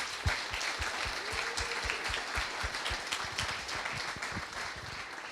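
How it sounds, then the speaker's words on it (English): A tech meetup audience gives a final round of applause at the close of an evening of talks and demos, with moderate, dense clapping from a room-sized crowd heard from slightly back. "Let's give one final applause for everyone tonight."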